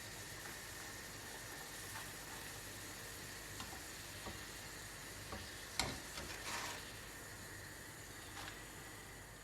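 Pişi dough balls, a Turkish fried dough made with flour and ketchup, fry in hot oil, giving a steady close sizzle and hiss with a few brief louder crackles and spoon clinks, and no talking.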